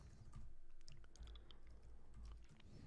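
Quiet, rapid keystrokes on a computer keyboard, clicking in a steady irregular patter close to the microphone with no voices.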